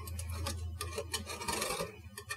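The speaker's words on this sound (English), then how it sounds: "I'm going to take my knife here, and I'm going to go into each one of these grooves" A kitchen knife scraping along the grooves of a lemon, heard as a run of short, rough rasping strokes close by over a steady low hum.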